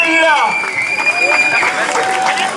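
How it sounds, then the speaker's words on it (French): An audience at a Burundian community event, Afrodisiac CIPROC 2017, breaks into brisk applause for a guest as a voice rings out over the clapping. "On applaudit bien fort, s'il vous plaît, pour Emmanuel"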